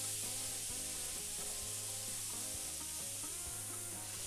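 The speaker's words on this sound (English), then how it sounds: "You just want to sear the outside of it." Venison searing in a hot pan for a stew, a steady dense sizzle running unbroken and close throughout, with no talking.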